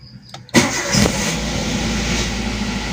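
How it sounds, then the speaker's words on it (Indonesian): A used car's engine cranks briefly and catches during an inspection, then settles into a loud, steady idle that runs close by to the end. "selanjutnya mesin sudah menyala."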